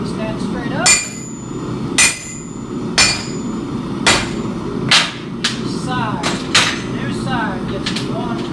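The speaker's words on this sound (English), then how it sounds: "swift blow with the hammer." A blacksmith's hammer strikes the head of a hot hand-forged clout bolt held upright in a setting device, giving about seven sharp metallic blows at a steady one-per-second rhythm over a low background hum.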